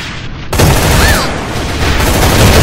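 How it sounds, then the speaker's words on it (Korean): Gunfire bursts and a grenade blast in the online shooter A.V.A, starting with a sudden loud onset after a quieter half-second, then sustained dense loud firing and explosive noise to the end. "수류탄!"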